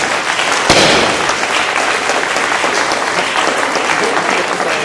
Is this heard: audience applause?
yes